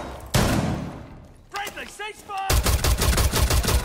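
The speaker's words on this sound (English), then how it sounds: "Who's shooting me and why?" Video game gunfire: a loud blast that decays, a voice speaking over a brief lull, then a rapid run of sharp shots in quick succession.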